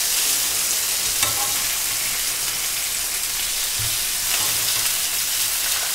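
Tomatoes sizzle loudly in a frying pan as they are turned over, a constant hissing crackle with a few soft knocks from the pan in between.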